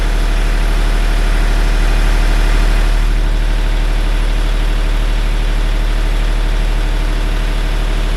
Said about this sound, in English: A spark running up the gen set now.